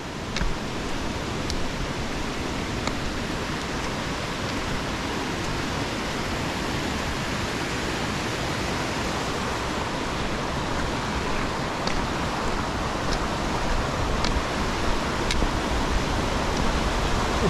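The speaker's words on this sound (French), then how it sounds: "Ce torrent." Mountain torrent on a hiking trail around Lac de Bious-Artigues, a steady broadband rush of fast water that stays loud and unbroken throughout, with no talking.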